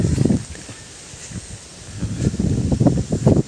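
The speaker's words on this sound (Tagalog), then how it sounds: "Marinig dyan po ang lagaslas ng hangin pag ganitong hapon na." Afternoon wind gusting and rustling outdoors in Sitio Malacauyan, Dingalan, Aurora, a soft low rush that swells and fades, growing stronger toward the end, with no voices.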